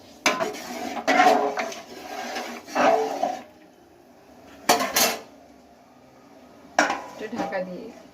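Pot and utensil clatter from a home kitchen while mung dal cooks, as a lid is set half over the pot: several short metallic knocks and scrapes in separate bursts, close by, with quiet gaps between.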